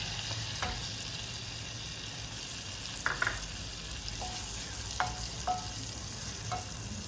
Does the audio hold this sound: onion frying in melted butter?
yes